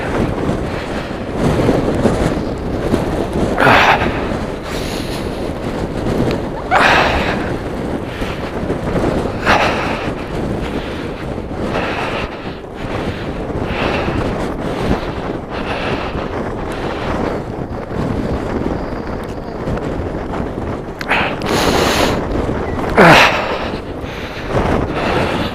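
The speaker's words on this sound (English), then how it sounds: "the wind is picking up" Steady wind roars and buffets the microphone throughout a drive on Iceland's Golden Circle route, with broadband rushing noise and periodic stronger gusts, loud and continuous with no talk.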